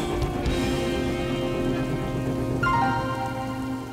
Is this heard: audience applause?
no